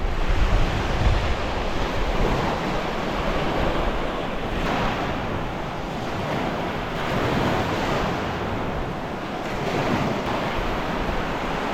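Stormy, high Baltic Sea waves crash on the German coast in a continuous rushing roar. Wind buffets the microphone, and no one speaks.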